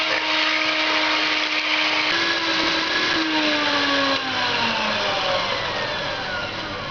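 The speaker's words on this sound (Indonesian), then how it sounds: "Lalu kocok telur selama 2 menit lebih kurang sampai mengembang dengan kecepatan tinggi." A high-speed electric mixer beats eggs continuously for several seconds, a steady loud whirring drone with a rising and falling pitch as the beaters work, with no talk.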